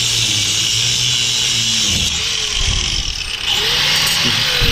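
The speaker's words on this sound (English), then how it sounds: "The 4-inch grinder with the cutting wheel eats right through them." Four-inch angle grinder with a cutting wheel slicing through steel truck leaf springs: a continuous loud, harsh high-pitched grinding whine throughout, close up, with slight shifts in pitch as the wheel bites.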